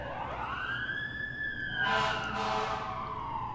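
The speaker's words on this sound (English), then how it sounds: "Oh, there's the sirens." Emergency vehicle sirens wail in a Santa Monica street, one rising and sweeping steadily before a louder, brighter burst as the vehicles pass fairly close over traffic noise.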